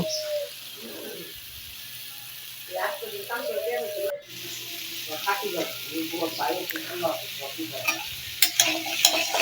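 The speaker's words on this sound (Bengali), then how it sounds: "গাজরটা আমরা মিক্স করে সুন্দর করে আবার একসাথে ভেজে নিব" Carrots frying in a pan, a quiet sizzle with clusters of spoon scrapes and clinks growing busier toward the end, while a pigeon coos in the background.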